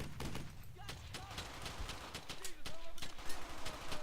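Gunfire rattles in the World War II shooter Brothers in Arms: Hell's Highway, a fairly quiet spread of distant rifle and machine-gun bursts with scattered sharp cracks, and someone talks over it.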